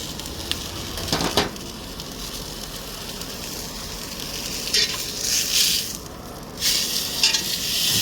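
Tri tip searing on a hot grill, a constant crackling sizzle with several louder bursts of spitting fat and scraping as the meat is moved.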